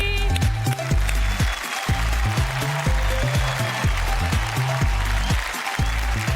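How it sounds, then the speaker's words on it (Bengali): A TV game show studio audience claps loudly and continuously, with rhythmic, close clapping throughout. "জোরে হাততালি।"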